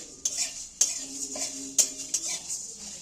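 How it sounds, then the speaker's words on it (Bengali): A metal spoon scrapes and clinks repeatedly against a pan while small chilies and spices fry for a beetroot-carrot dish, sharp taps over a light sizzle. "এই দুটো জিনিসকে একটু আগেই নাড়াচাড়া করে ভেজে নেব"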